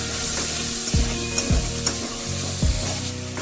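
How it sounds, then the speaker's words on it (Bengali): Spice paste sizzles steadily in a hot pan while a utensil scrapes and stirs it in several regular strokes, close up. "খুব সামান্য পরিমাণ জল দিয়ে দেবেন যাতে মশলাটা ঠিক মতো ভাজা হয়ে যায়।"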